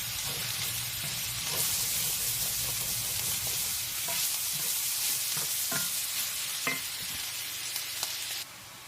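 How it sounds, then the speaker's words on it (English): Sausage and onions browning in a pan for pumpkin sausage soup, a steady close sizzle and frying hiss with occasional stirring scrapes and clicks, no talking. "My sausage is almost browned and the onions are softening up and starting to brown"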